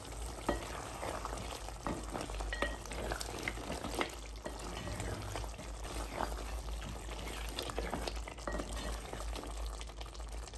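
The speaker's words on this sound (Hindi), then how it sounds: "10 मिनट हो चुके हैं, गोश्त अच्छे से पक रहा है," Steady bubbling and sizzling from mutton cooking in a pot on the stove for malai gosht, with occasional soft clinks and stirring, heard up close at low volume.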